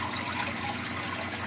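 A hang-on-back aquarium filter pours water steadily into a tank, making a continuous soft rushing trickle at low volume with no break or change.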